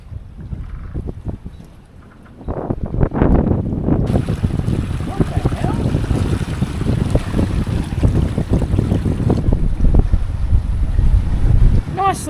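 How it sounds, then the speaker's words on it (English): A sailboat runs downwind off Kefalos on Kos at about 4.5 to 5 knots, with steady rushing water along the hull and buffeting wind noise that grows louder and fuller partway through. "Nice little downwind sail this morning."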